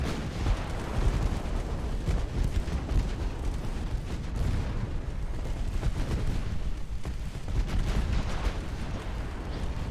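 Battleship secondary guns firing HE shells in a naval combat video game, a continuous dense barrage of booming shots and rumbling impacts at steady high loudness, with no clear gaps.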